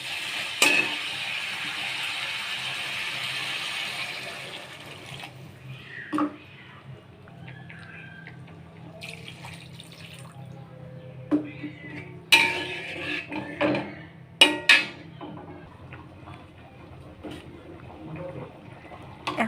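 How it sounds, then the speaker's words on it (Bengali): Broth poured into a pan of sautéed, boiled potatoes for a duck egg and potato curry, a broad hissing sizzle for the first few seconds, then scattered clinks of a utensil against the pan. "ঝোল দিয়ে দেব।"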